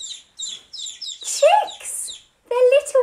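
Baby chicks chirp in a quick run of high, bright peeps, several short calls in a row, then a voice breaks in with longer, sliding sounds that may imitate the birds.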